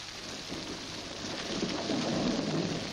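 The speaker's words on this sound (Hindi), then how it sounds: "बारिश हो रही है और अभी लाश यहीं पड़ी है।" Steady rain pours down during a thunderstorm, with a low rumble of thunder swelling beneath the dense hiss and growing louder toward the end, with no voices.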